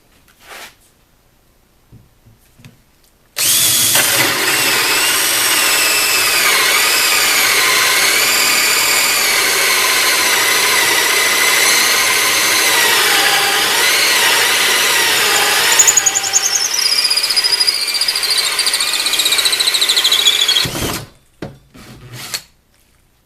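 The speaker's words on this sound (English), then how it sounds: "the Makita's all chalked up with the same hole saw, so let's see what this thing does" A Makita cordless drill drives a hole saw through wood, a loud steady whirring grind with rasping bite that holds for about seventeen seconds before spinning down and stopping.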